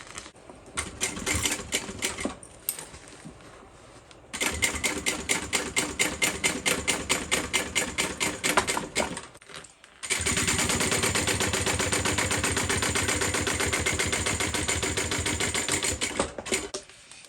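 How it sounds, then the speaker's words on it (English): A sewing machine topstitches along a bag seam of gold and pink fabric in rapid, close mechanical bursts that pause and restart, ending in a long unbroken stretch of running. "push my seam allowance to the base and top stitch"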